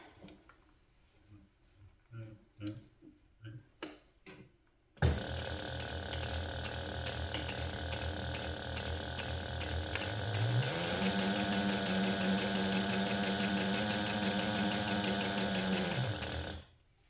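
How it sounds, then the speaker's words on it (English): A sewing machine stitches around a handbag strap at a 1/8 inch seam allowance, first in a few short bursts, then running continuously as a loud, fast mechanical rattle that rises in pitch as it speeds up, and stops abruptly near the end. "now I'm just going to sew all the way around the strap using a 1/8 inch seam allowance to sew it together"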